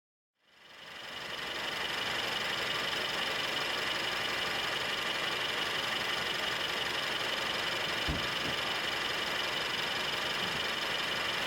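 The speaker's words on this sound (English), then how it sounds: "you can definitely hear that air intake sucking in all that air into the engine" A Mercedes C300 W205 C-Class fitted with a cold air intake starts up and settles into a steady, even idle, a continuous airy engine drone with a faint knocking texture and no voices.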